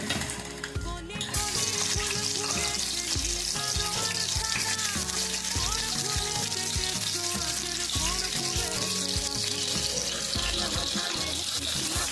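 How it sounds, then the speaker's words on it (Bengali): Salted pointed gourd (parwal) fries in a hot wok, breaking into a steady, bright sizzle about a second in that carries on beneath tonal background sounds. "কড়াই গরম হয়ে গেছে, আমি পটলটা দিয়ে দেবো।"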